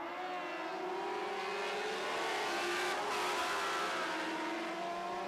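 A pack of lightning sprint race cars accelerates together at the green flag in a heat race, a steady distant engine roar with rising, layered pitches sustained throughout.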